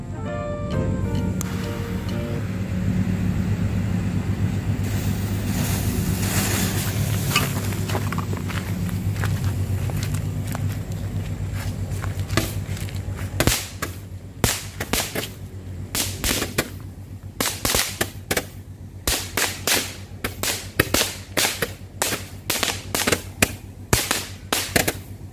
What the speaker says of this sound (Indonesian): Sekarang kita lanjut nyumut mercon magic ball yang ini. Ini dia, kita coba nyalain sekaligus 4,